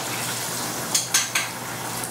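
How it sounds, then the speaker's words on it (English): Chicken frying in a pan gives a steady background sizzle, with a few sharp utensil or pan clinks in the middle. "I'm frying chicken"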